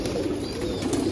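A Rampuri pigeon with a black beak and white front coos in a low, steady murmur, close and continuous through a short moment, with no talking.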